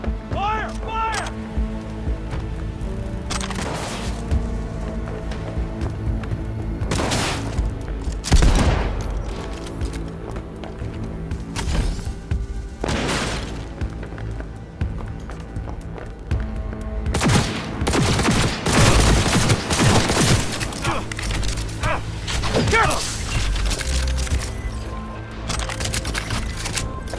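Repeated bursts of gunfire echo through a Cyberpunk 2077 firefight, loud and irregular, some single booming shots and some rapid volleys, with voices talking over much of the action.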